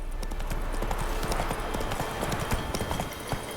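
Rapid, rhythmic hoofbeats of a galloping horse in The Witcher 3, loud and steady throughout, with no talking over them.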